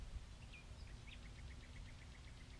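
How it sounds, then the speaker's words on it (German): A lone bird repeats a short, high chirp at an even pace, faint and somewhat distant, against a low background hush in a very still outdoor setting just after a passing thunderstorm. "Man hört nur einen Vogel, sonst nichts."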